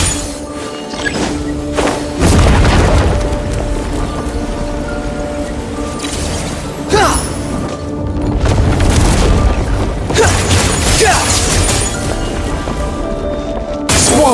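A breakable wall in Genshin Impact gets smashed, bringing heavy booming impacts and crashing thuds one after another over a continuous loud game soundscape.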